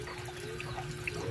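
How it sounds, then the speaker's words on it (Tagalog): Harvested chili peppers soaking and being washed in water, giving a soft, continuous sloshing and trickling close by with no talk. "Babad muna natin sa tubig para mahugasan siya."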